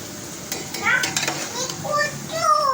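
Onions sizzle and fry in a pan with bursts of stirring and scraping, moderately close, alongside a few clattering utensil sounds and faint background voices.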